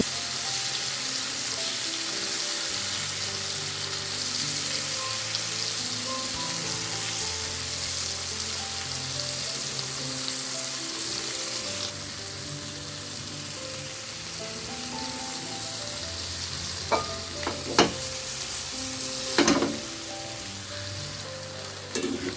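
Shrimp frying in hot oil and being turned from side to side, a loud, continuous crackling sizzle close by, with a few sharp clinks and scrapes of stirring near the end; nobody speaks.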